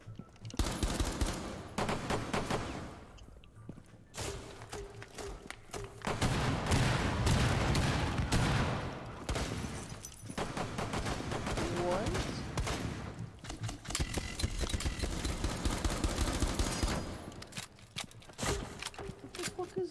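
Heavy video game gunfire, rapid bursts and fusillades overlapping continuously, loud and close, with voices talking over the shooting throughout.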